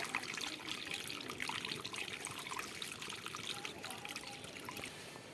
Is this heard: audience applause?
no